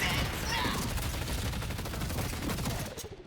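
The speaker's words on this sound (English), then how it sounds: "her ultimate ability is Bullet Dance, which if we look at the description, makes her shoot her gun at players around in an area" Rapid, sustained gunfire from the Bullet Dance ultimate ability in the Deadlock video game, a dense continuous burst of shots, loud and constant, that cuts off near the end.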